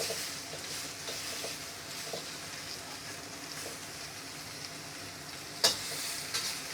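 Cantonese lamb breast frying with sauce in a pan, a steady low sizzle with occasional scrapes and taps of a utensil, close and without talk.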